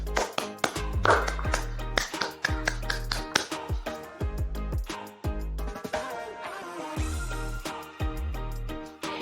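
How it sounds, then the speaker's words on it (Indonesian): A Pramuka scout clap: crisp hand claps strike in a patterned rhythm of grouped bursts with short pauses between, close and clear, with musical tones faintly present behind them. "Tepuk pramuka"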